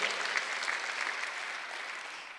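A church congregation at a Sunday worship service claps together in a dense, sustained burst of applause that tapers only slightly over a couple of seconds.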